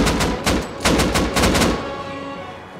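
A quick string of about eight close, loud gunshots in the survival game Rust, firing in a rapid rhythm before fading into a ringing tail.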